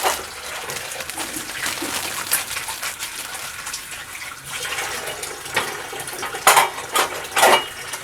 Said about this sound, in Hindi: ये मेरी अम्मी साथ साथ बर्तन धोने की बीमारी रखती हैं